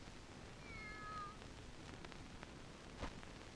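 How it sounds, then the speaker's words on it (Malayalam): A cat gives a single short meow, faint and somewhat distant, over a quiet indoor background with a small rustle afterward. "ഒന്നുമില്ല, ഒരു പൂച്ച."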